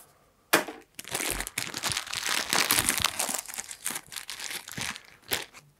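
Someone opens the vacuum-sealed plastic packaging of a set of D'Addario guitar strings, making close, loud crinkling and tearing that comes in irregular bursts with a few sharp cracks, and no talk.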